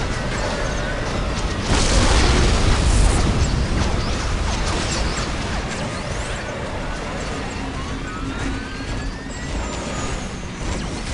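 Explosions boom during a real-time strategy battle in the video game Dawn of War: Dark Crusade, with a loud blast early on rising out of a dense, continuous roar of combat noise.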